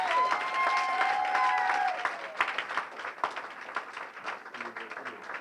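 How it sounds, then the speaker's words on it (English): A church congregation applauds its pastors on an appreciation day, a full wash of clapping from many hands that thins into scattered, fading claps toward the end. "A round of applause."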